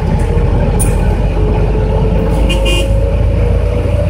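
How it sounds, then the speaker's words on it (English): Steady engine rumble and road noise inside a trotro minibus riding through Kumasi, Ghana, with short high horn toots and faint squeals over the constant drone. "So this is what it's like to ride a Trotro in Kumasi."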